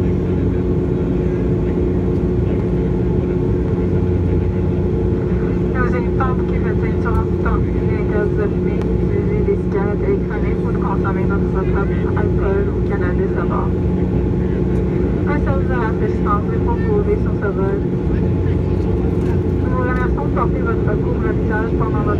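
Air Canada Express Jazz DASH-8 Q400 turboprop airliner taking off from Vancouver International, heard from inside the cabin as a steady, loud propeller and engine drone with a constant low hum throughout, faint voices and announcements mixed beneath.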